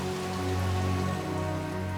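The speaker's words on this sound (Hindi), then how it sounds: "यहाँ बहुत जोरों की बारिश हो रही है" Heavy rain falls steadily on surfaces outdoors near a roadside tea stall, a dense continuous hiss with drumming drops and no voices.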